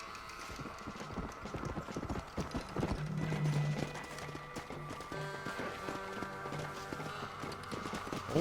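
Horse hooves clip-clop in the video game Red Dead Redemption Undead Nightmare, a steady run of close, moderately loud hoofbeats mixed with game ambience and a brief tonal drone.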